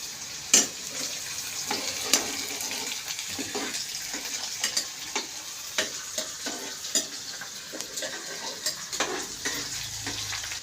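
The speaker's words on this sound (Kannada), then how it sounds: "ಇವಾಗ ಈರುಳ್ಳಿನೂ ಹಾಕುತ್ತಿದ್ದೇನೆ. ಸ್ವಲ್ಪ ಫ್ರೈ ಮಾಡಬೇಕು." Green chillies and onion frying in a pan for white rava upma, a steady soft sizzle with intermittent stirring taps and scrapes, close but moderate in level, no voices.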